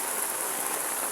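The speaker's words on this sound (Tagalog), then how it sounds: "habang lakas ng ulan mga guys." Heavy typhoon rain from Typhoon Carina in Metro Manila, a steady, dense hiss of downpour close around someone walking, with no other sounds standing out.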